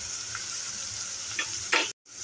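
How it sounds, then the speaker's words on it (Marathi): Onions being browned with turmeric and salt in a pan give a steady, quiet sizzle, broken by a few faint clicks and a short stirring scrape before a brief cutout. "हे परते तोपर्यंत कांद्याला चांगला ब्राऊन कलर येईपर्यंत परतू देते"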